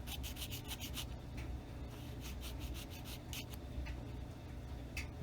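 Jeweler's file rasping along the edge of a plastic model starship part, a run of quick, close strokes in bursts with brief pauses between them.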